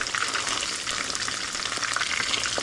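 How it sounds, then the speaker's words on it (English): Soft tofu sizzling in a hot pan before being stewed in tomato sauce, a dense steady crackle of frying oil with light stirring scrapes, close and continuous with no voices. "By frying your tofu, you help it from when you stew the tofu dish"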